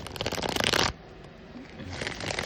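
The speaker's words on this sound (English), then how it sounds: "it's getting shuffled back in there again" Tarot cards being shuffled by hand in a rapid, crisp riffle of papery flutters and taps, loud and close for almost a second, then a quieter stretch with faint card handling and no talking.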